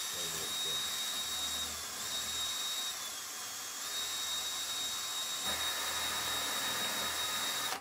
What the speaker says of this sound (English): I'm going to drill a hole first.